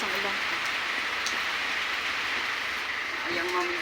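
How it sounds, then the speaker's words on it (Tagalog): Heavy rain pours down steadily outdoors as a broad, constant hiss that fills the whole clip, loud and close, with faint voices underneath. "Lumalakas ang ulan."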